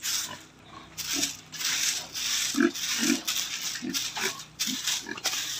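Two-month-old fattener pigs grunt and snort repeatedly at close range over a constant rustling, scraping background.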